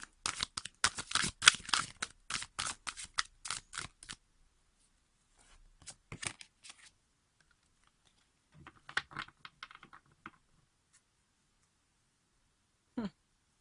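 Brisk riffling and slapping of a tarot deck being shuffled, in quick bursts with pauses, followed by a few softer shuffles and a thump.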